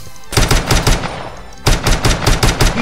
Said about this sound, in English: And then a Glock.